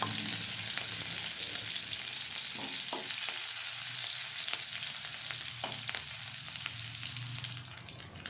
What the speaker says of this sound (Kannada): ಈ ರೀತಿ ಸಾಸಿವೆ ಎಲ್ಲ ಸಿಡಿದ ನಂತರ ನಾವು ಸಣ್ಣದಾಗಿ ಹೆಚ್ಚಿಟ್ಕೊಂಡಿರೋ ಹಸಿರು ಮೆಣಸಿನ್ಕಾಯಿ ಹಾಕಿ ಎಣ್ಣೆಯಲ್ಲಿ ಫ್ರೈ ಮಾಡ್ಕೊಬೇಕು.